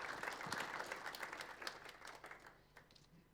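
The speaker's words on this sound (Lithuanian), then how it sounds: "taip pat jūsų plojimai" A crowd applauds steadily in a large room at a Lithuanian sports journalists' awards ceremony, a dense wash of clapping that slowly fades out over a few seconds.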